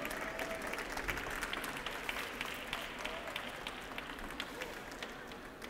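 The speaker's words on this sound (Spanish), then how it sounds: "Del mismo modo, reconocemos a Ileana Lemus también con este aplauso" Audience applause at an architecture graduates' 25th-anniversary ceremony: faint, distant clapping from a crowd, with scattered sharper claps over a soft continuous wash that slowly tapers.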